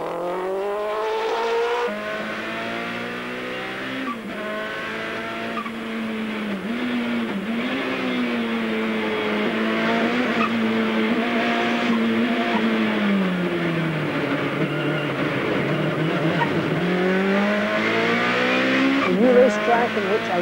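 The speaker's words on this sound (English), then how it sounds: "that enormous amount of turbocharged sound being thrown from one bare wall to the other" A turbocharged race car engine heard from inside the cockpit on a track, loud and continuous, its droning pitch sliding up and down as the car accelerates and eases through corners.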